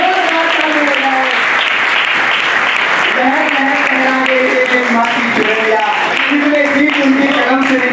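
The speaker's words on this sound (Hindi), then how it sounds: "जोरदार तालियां बजाएं।" Sustained audience applause rings out at an Atal Samman award ceremony held in the Parliament of India, steady and dense throughout, with a voice speaking over the clapping.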